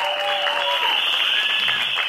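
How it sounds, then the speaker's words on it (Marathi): Dense, steady applause from an audience at a film trailer launch event, loud and sustained throughout, with a faint tonal hum underneath. "तर जोरदार टाळ्या आपल्या टॉपच्या किंगसाठी."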